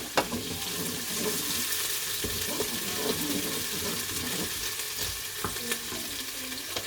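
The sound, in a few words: onions frying in hot oil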